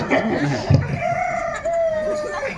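A rooster crows nearby, a long rising call that stretches across the clip, with some clucking and background voices around it.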